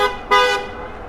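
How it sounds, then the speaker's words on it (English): Car horns honk in street traffic near someone riding a Super73 e-bike: a short toot, then a louder, longer blast that fades out, with no talking. "what is with the honking today?"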